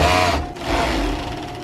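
A sewing machine runs continuously for under two seconds while stitching a pocket onto pajamas, giving a close, steady mechanical whir with a slight dip partway through.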